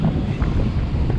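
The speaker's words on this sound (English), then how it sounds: "Well, the wind's got up a little bit." Wind roars steadily across a microphone aboard a sailboat at sea, a constant close buffeting wash with slight water motion beneath, no voices.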